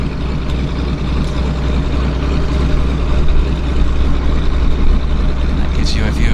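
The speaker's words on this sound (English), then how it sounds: "I love the sound of the round engine." A floatplane's radial engine runs steadily at a harbour airport, a loud continuous low drone with rumbling throb that persists throughout, with faint background sounds and a brief higher whine near the end.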